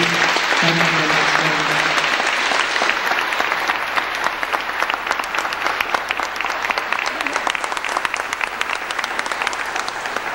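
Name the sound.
audience round of applause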